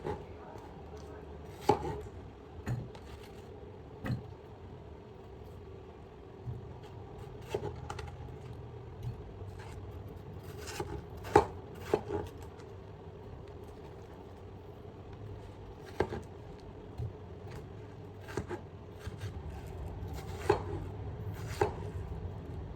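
Knife chopping a seeded watermelon on a board, with sharp, irregularly spaced thunks that come in small clusters with pauses between them, close and clear over a faint low background.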